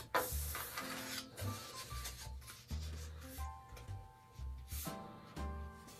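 Paper being folded in half for a Christmas craft centerpiece, giving soft close rubbing and crinkling with brief scrapes, while faint music plays underneath.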